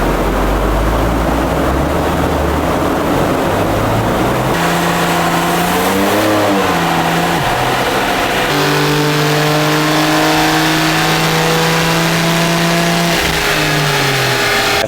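A stock BMW G87 M2 strapped to a dyno runs up through its revs: a loud engine note climbs steadily in pitch, dips briefly at a shift, then climbs again and drops off at the end.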